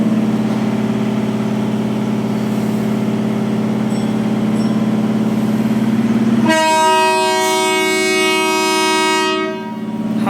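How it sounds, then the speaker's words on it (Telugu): An MMTS suburban train sounds a loud, sustained horn at a railway station. A steady low engine rumble fills the first part, then the bright multi-tone horn blares continuously for several seconds before cutting off near the end. "ఈ హాంకింగ్ సౌండ్ అయితే మాత్రం సూపర్గా ఉంటుందండి వినడానికి రైల్వే స్టేషన్స్లలో."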